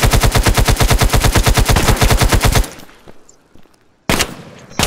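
Rapid automatic gunfire in a video game rattles loudly in a steady burst, falls silent for a moment, then a fresh burst of shots breaks out.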